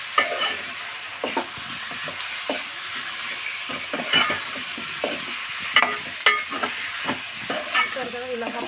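Half a kilo of washed chicken stirred in a hot pan, steady sizzling and frying under repeated scraping strokes of a spoon, close and fairly loud throughout.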